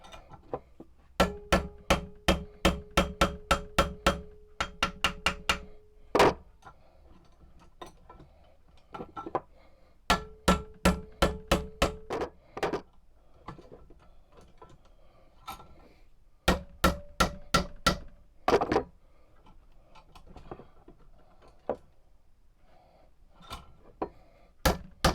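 A hammer strikes the guard of a homemade 1917 Frontier Bowie knife to bend it, giving sharp metallic taps in quick rhythmic runs with pauses between the groups, close and fairly loud.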